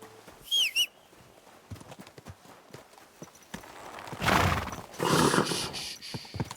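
A horse whinnies sharply near the start in the video game Kingdom Come: Deliverance II, followed by scattered hoof clops and a couple of louder bursts of movement and rustling.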